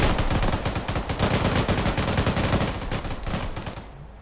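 Sustained automatic gunfire in ARMA 3, many weapons firing at once in a loud, rapid, unbroken rattle that cuts off near the end.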